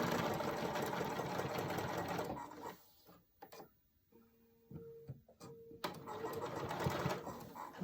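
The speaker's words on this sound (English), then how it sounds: "You're going to sew all the way around." A sewing machine stitches through thick layered flannel on a rag quilt, running in fast steady bursts that stop briefly midway for a few slow, deliberate stitches before speeding up again, close and clear.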